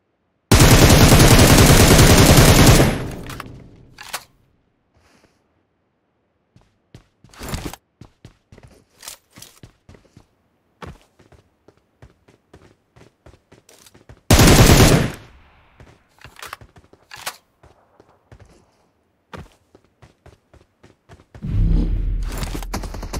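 Gunfire in the mobile battle royale PUBG Mobile: two loud, dense bursts of automatic fire a dozen seconds apart, with scattered sharp single shots and footstep-like clicks in between, and another burst starting at the end.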